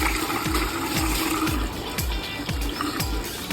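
A homemade venturi aerator jet for a fish pond gushes water loudly and steadily, with a regular pulsing gurgle roughly twice a second as air mixes into the stream, and no talking.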